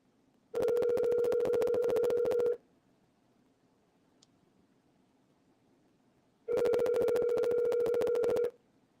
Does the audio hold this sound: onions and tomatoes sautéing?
no